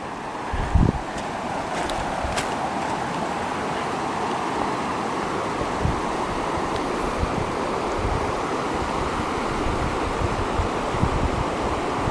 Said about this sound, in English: I'm actually right next to the river, which is really pretty